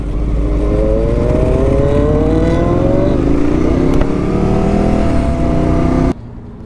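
A Husqvarna Pitbullen 401 motorcycle engine revving nearby, a loud sustained throaty drone whose pitch sweeps down and up across several seconds before cutting off abruptly.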